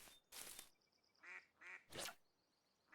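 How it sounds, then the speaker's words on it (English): A duck quacks somewhere behind a lakeside angler in Russian Fishing 4. The few short quacks are faint and distant against quiet outdoor ambience. "Duck quacking behind us somewhere."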